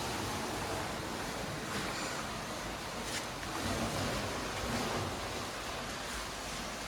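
Sea waves surging at high tide near a rocky cave on the north Goa coast, a steady broadband wash of surf with occasional louder swells, continuous and fairly close, with some wind noise and no talking.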